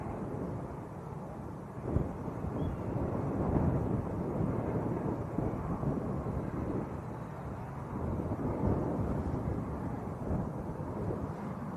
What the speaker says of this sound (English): the Edelweiss is coming straight over the top of us at the moment